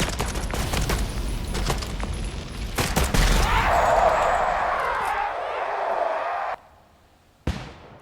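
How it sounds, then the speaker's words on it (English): A flashbang grenade goes off during video game combat: a loud crack and blast, a long ringing wash, then an abrupt cut to near silence before another sharp hit, with gunfire around it. "Oh my flashbang."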